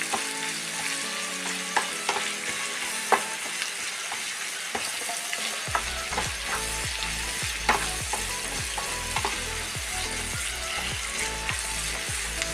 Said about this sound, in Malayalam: പിന്നെ വേപ്പില, കുറച്ച് ഫ്രൈ ആവണത്